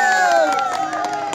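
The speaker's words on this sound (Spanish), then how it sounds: "Bien, los aplausos" A crowd cheers for a candidate at a school queen pageant in Canchachala, with a sustained shouted tone riding over steady crowd noise through a short, loud burst.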